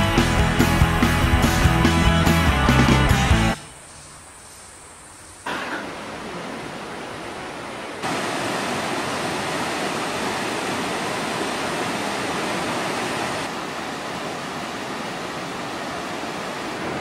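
The Crystal Cascades waterfall rushes as a steady broadband roar that stays loud and continuous after a stretch of music at the start.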